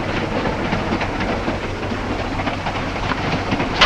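A train runs steadily in a 1943 film, with continuous rumbling, hiss and faint clickety-clack of wheels, close and unbroken, with no talk.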